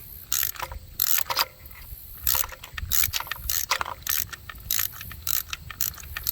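A socket ratchet loosening spark plugs on a 2004 Toyota Corolla gives short bursts of rapid clicking, repeated in uneven spurts with brief pauses between strokes, close and crisp with no talk.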